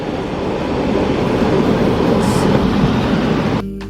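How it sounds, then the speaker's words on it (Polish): Loud, continuous rumble of a moving train, a steady roar of wheels and carriage noise close by, cutting off abruptly near the end. "Ale fajny pociąg"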